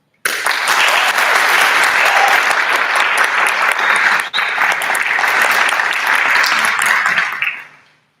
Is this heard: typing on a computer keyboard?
no